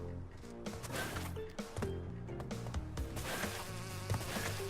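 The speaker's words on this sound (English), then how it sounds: "I do believe you will run into bees. Bees!" Bees in Crash Bandicoot 2 buzz steadily and close, heard over the game's music and effects with a few thuds, and no talk.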